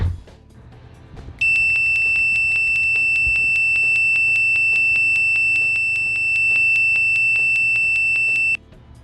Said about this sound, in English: the maximum output volume in continuity. Whoa, that's loud.